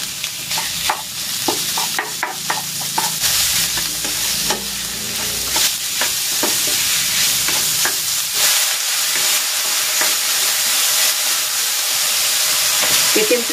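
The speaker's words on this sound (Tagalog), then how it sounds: "igigisa ko na rin tong pork" Ground pork sautéing in a hot pan for papaya lumpia filling, a steady loud sizzle with a spoon scraping and stirring through it, no talk.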